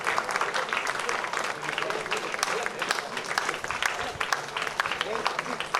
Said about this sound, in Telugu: అందరూ చప్పట్లు కొడుతూ తండ్రి గారిని ఆహ్వానిస్తాం.